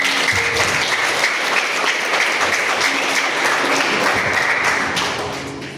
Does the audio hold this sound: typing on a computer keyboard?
no